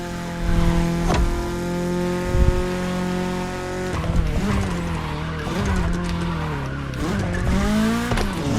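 A BMW in The Crew Motorfest revs and drifts, its engine note rising and falling while tires squeal repeatedly through slides, loud and close throughout.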